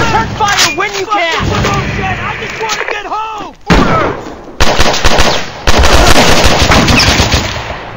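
Rapid machine-gun bursts and scattered gunshots crackle through a video game battle, loud and dense for most of the stretch with heavier volleys toward the end, while voices shout over the fire.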